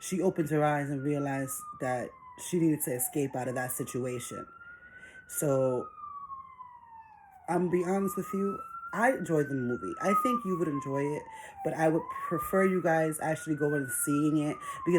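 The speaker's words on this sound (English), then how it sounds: "I do apologize for that siren." A police-style siren wails outside a house, its long rising and falling sweeps clear and fairly close, running under steady talk for most of the stretch.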